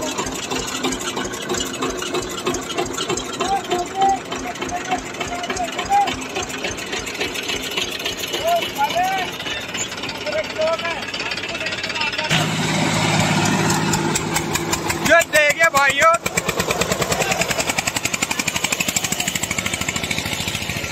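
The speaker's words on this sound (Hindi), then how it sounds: "ये देखो क्या कूद रहे ट्रैक्टर।" Several tractors, including Mahindra 265 DI, Farmtrac 45 and Eicher 241 models, run in a wet, muddy field, their diesel engines chugging with a steady rapid knock that swells louder and harsher as they rev and strain.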